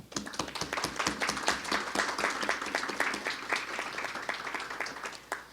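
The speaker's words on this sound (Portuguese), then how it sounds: "peço uma salva de palmas" A crowd applauds steadily at a social security tax law event, many hands clapping in a dense, continuous patter that holds its level throughout.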